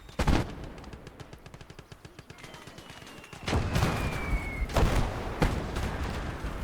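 Gunfire in the Call to Arms Gates of Hell Ostfront World War II game, a rattling machine-gun stream followed by several heavy, loud booming shots and sharp bangs near the end.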